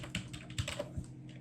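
Quiet typing on a computer keyboard, a run of soft, irregular key clicks close by with no talk.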